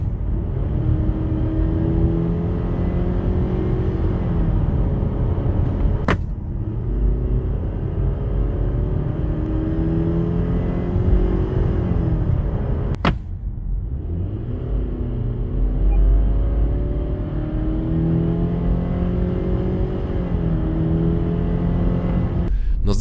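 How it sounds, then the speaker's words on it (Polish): A 2024 Subaru Forester 2.0i-L e-BOXER with CVT accelerating, its engine and transmission producing a loud, sustained droning whine that rises in pitch and drops back between shifts, heard close from inside without talk. "przez obecność skrzyni CVT oraz charakterystyki silnika słychać jak wszystko razem wyje"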